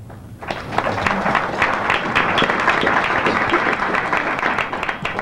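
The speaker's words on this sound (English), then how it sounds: "Now we've had nice quiet applause for both of their opening statements" An audience at a state superintendent debate applauds after a candidate's opening statement, steady moderate clapping from a room full of people that begins sharply and holds at an even level.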